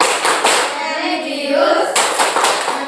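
A classroom of schoolchildren performs a rhythmic group hand-clapping routine, a loud, dense stream of patterned claps close by, with a short break partway through before the clapping resumes.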